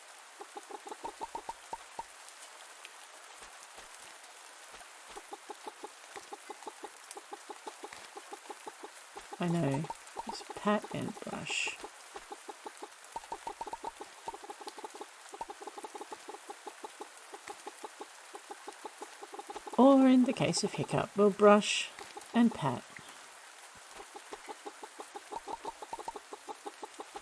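Cartoonish chickens cluck in a farming video game, with two short bursts of fowl calls standing out over a steady ticking rhythm while a person talks throughout.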